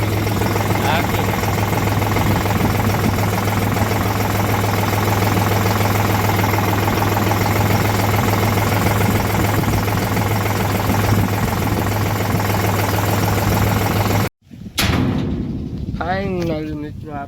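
A tractor engine runs loud and close in a groundnut field, a constant droning rumble for most of the stretch before abruptly cutting off, after which faint sounds are left.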